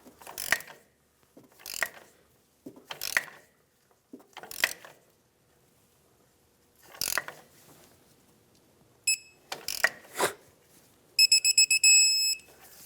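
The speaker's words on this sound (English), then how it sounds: "to line up the slot of the cotter pin with the castle nut, just keep tightening" A ratchet tightens a castle nut on a 1996-2002 Toyota 4Runner steering knuckle, giving several separate bursts of quick clicking with pauses between, close and clear, followed by a brief high metallic ringing.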